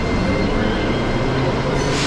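Sofia subway train starting to pull out of a station, a loud, steady, close rumble of wheels and motors filling the whole moment.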